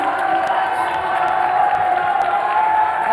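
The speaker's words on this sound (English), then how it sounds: "They're just cheering for everyone now, Aggie." An audience roars and claps at the FIFAe Club World Cup 2023 esports tournament, a continuous even wash of cheering with scattered whoops and claps, and commentators talking over it.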